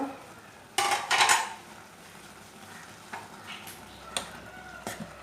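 Metal lid lifted off a pan of carrot halwa, a loud clattering scrape followed by a few lighter clinks of utensils against the pot, with no talking.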